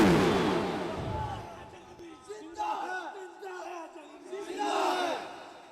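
A large crowd at an outdoor religious gathering in Kot Rafiq roars back in unison to a takbir call, rising in loud swelling shouts that come in two big waves over continued chanting.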